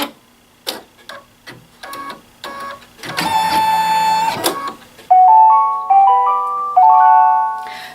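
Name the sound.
embroidery machine signalling design completed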